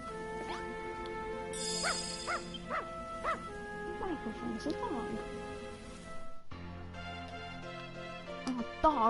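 Dog barks and yips from Dragon Quest Builders 2 sound in short repeated bursts over in-game music and chimes, fairly soft in the mix, with a sudden change of music partway through.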